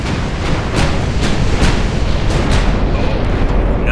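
Big naval guns fire in the video game Ultimate Admiral Dreadnoughts, a loud rolling barrage of repeated booms, several blasts in quick succession over a heavy rumbling roar.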